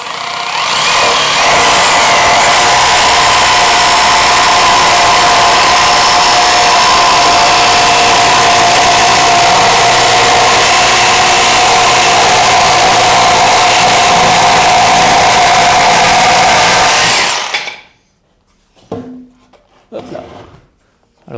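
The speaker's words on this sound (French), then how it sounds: "On va passer donc à la coupe de ce bout de bois." A Bosch GST 18V-155 BC cordless jigsaw cuts through a piece of wood with a loud, steady, close buzzing roar for about seventeen seconds, then stops abruptly, leaving a few faint handling knocks.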